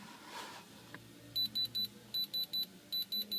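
Repeated high electronic beeps in groups of three from a glass tester, clear and close, over a quiet background with a faint click before them.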